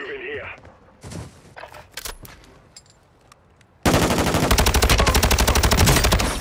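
Video-game gunfire: after scattered quieter clicks and handling noises with a voice, a loud, sustained burst of rapid automatic fire erupts and continues to the end.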